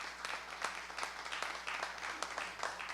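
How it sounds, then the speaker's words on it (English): A modest audience at a small business empowerment fair gives a brief, fairly quiet round of applause for city council members, scattered claps overlapping in a short burst. "Can we give them a round of applause,"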